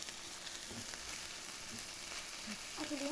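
Kidneys being stirred in a pan as they release their water, a faint, steady wet sizzle with soft scraping of the stirring, close and quiet, with no talking.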